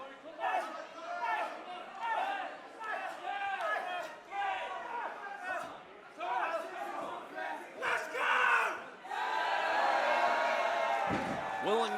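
Dense wrestling crowd roars and yells through a main-event match between Tony Wright and Rob Drake, a loud steady wash of voices with bursts of shouting and a commentator talking over it.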